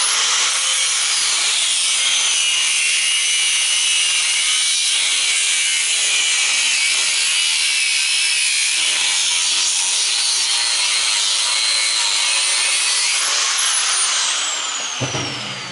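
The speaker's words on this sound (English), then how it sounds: "Now I'll cut deeper in here and then down the other side." An angle grinder cuts through a small fridge fan motor, a loud, steady high-pitched shriek of metal grinding that holds nearly unbroken for the whole stretch, then drops off abruptly at the end.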